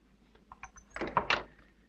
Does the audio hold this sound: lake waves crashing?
no